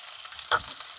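Onions and a few cashew pieces fry in a pan, giving a soft, steady sizzle with one brief louder stirring scrape midway. No one speaks.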